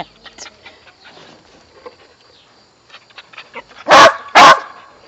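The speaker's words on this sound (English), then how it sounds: "he usually barks when he needs something" A dog barks twice in quick succession, loud and close, after quiet rustling and faint background noise.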